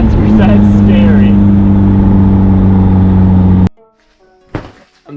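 A turbocharged Mazda Miata engine drones loud and steady at close range, then cuts off abruptly, leaving near silence and a few thumps.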